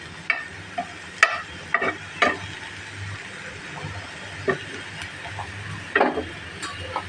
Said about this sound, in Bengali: এখন আমি ভালো করে শাকটাকে একটু ভেজে নেব